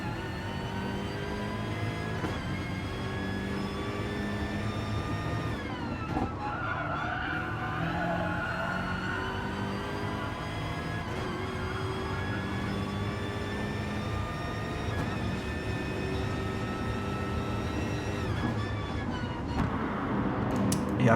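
BMW M6 race car engine from a racing game at Brands Hatch, droning loudly and steadily through the whole stretch, pitch sliding up and down through gear changes, with tyre squeal around mid-run.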